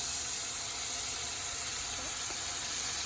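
Chopped onion frying in hot oil, a steady soft hiss and sizzle held evenly throughout, faint and without any talk.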